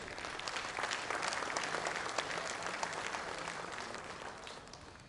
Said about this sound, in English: I request you to greet them with a round of applause